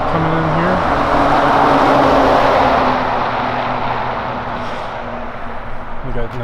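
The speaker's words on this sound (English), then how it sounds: "Got a truck coming in here." A truck drives along a downtown street in Bowling Green, Kentucky, its broad engine rumble loud and close at first, then easing off as it passes, with street noise around it.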